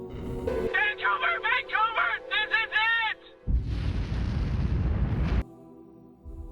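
A recorded radio voice speaks in short bursts, then a huge volcanic eruption roar breaks in as a dense, loud rumble lasting about two seconds before cutting off abruptly.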